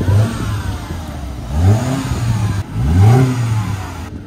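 Manual stick-shift car engine revs in three rising surges, each climbing and falling in pitch with a short rough idle between them, loud and close with no talk over it.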